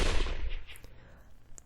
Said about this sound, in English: That gunshot just now.